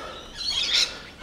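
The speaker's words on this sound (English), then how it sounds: "Got a lot of lorikeets, a lot of finches, noisy miners," Birds calling beside a creek in the Australian bush, including lorikeets, finches and noisy miners, with a bright chirping burst that swells loudly in the middle and then fades.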